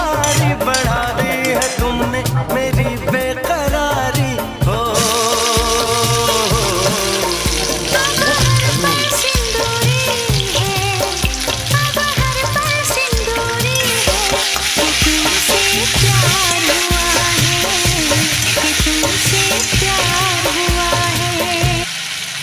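Ginger and tempering spices fry in a pan with a loud, constant close sizzle, punctuated by scraping stirs that come in a repeated rhythm throughout.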